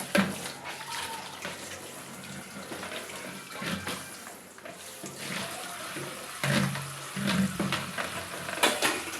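Water runs and splashes in a home, pouring beneath something with a continuous hissing flow that swells and dips, punctuated by small knocks and splatters.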